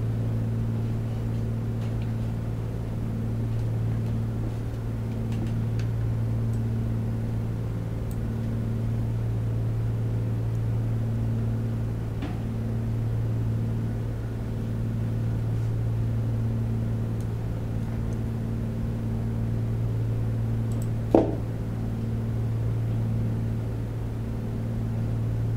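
Piper Comanche 250 single-engine piston aircraft in flight during an arrival approach with engine RPM pulled back: a loud, steady droning engine hum with a constant low tone runs through the whole stretch, and a brief click appears near the end.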